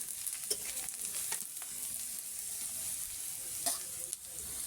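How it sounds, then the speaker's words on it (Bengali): Onion and chili fry in oil in a wok with a steady crackling sizzle, broken by a few sharp stirring scrapes and clicks up close. "আমি যে কড়াইতে পেঁয়াজ মরিচ তুলে দিয়েছি"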